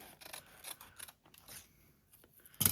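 Scissors cutting washi tape tickets: a quick series of quiet, close snips and rustles, ending in a sharper crisp snip.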